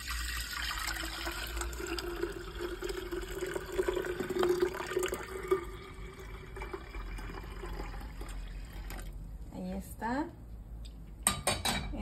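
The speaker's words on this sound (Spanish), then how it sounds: "lo vamos a agregar en este jarrón de vidrio" Room-temperature tea poured into a glass jar for kombucha, a soft trickle of liquid with glassy clinks and clatter, faint and close, with a brief voice near the end.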